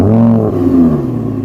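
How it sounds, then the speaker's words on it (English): An Audi R8 with a naturally aspirated V10 starts up: a loud, steady low engine rumble with rising then settling harmonic tones, close by and with no talk. "So let's start the Audi up"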